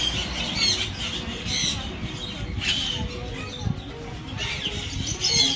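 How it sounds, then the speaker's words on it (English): African mountain doves at a St. Maarten bird park, soft cooing mixed with squawks and chirps from other birds over a busy outdoor ambience. "Here you have the mountain doves from Africa."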